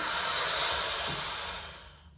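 A long, steady exhale during a slow yoga forward fold, with breathy airy noise that holds for about two seconds and then fades away to quiet, close and soft, with no voice.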